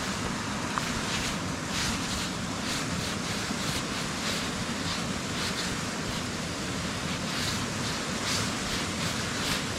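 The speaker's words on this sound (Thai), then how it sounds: "ทางข้างก็เป็นน้ำตก นะ" A waterfall beside a forest path pours in a dense, steady broadband rush that fills the whole stretch, moderately loud and unchanging, with no voices over it.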